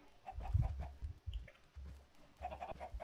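Chickens in the Minecraft video game give a few quick, bright clucks spread across a few seconds, standing alone without speech.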